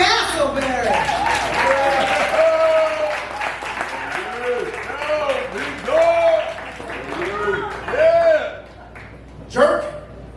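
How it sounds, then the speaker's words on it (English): Loud audience applause at a spoken word and storytelling evening, with cheering and high whooping shouts rising and falling throughout, swelling in bursts toward the end. "Let's give a big round of applause for Larry Castleberry."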